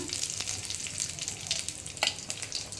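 Nigella seeds hitting hot oil in a wok give off a dense, crackling sizzle with brief pops, close and steady over a few seconds.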